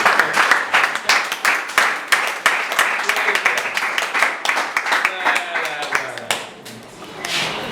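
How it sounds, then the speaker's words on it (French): Guests at a civil wedding clap in a loose, uneven burst of hand claps, fairly close and loud, with voices talking over and between the claps, the clapping thinning toward the end. "tu peux applaudir pour cette mariage?"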